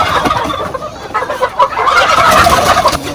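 Dongtao and Bresse chickens cluck and squawk close by at a poultry farm. The calls are loud and overlapping and grow busier toward the end of the short stretch.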